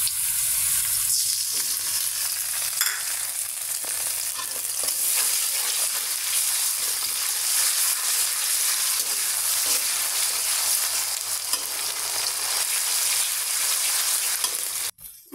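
Ginger, garlic and cumin paste fries in a pan with a loud, continuous close sizzle and occasional stirring, ending with an abrupt clunk.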